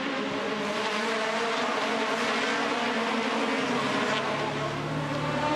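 Aussie Racing Cars race cars roaring across the finish line at Sydney, a dense, loud, continuous high-pitched engine wail from several cars passing close together.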